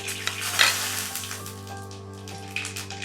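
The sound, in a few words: bay leaf and panch phoron sizzling in fish-frying oil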